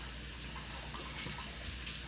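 Tap water runs steadily into a kitchen sink, warming up while meat is being seasoned, as a continuous close, even rush with no talking.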